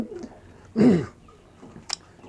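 A pigeon gives a short, low, throaty coo, with a faint higher chirp a moment later against quiet background.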